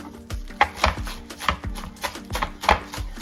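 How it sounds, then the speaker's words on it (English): A knife slices green onions thinly on a cutting board, giving a steady series of crisp, close chopping taps at an even rhythm. "Look at that knife go."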